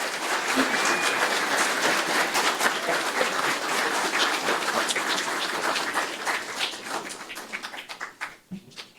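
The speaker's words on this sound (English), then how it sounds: "let's give them all a round of applause," Crowd applause for newly sworn-in county officials, including a precinct constable, at a swearing-in ceremony; steady, dense clapping for several seconds that thins out into a few last claps.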